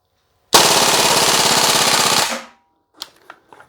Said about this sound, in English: Okay, so we're going to go full auto here. I am going to do a mag dump.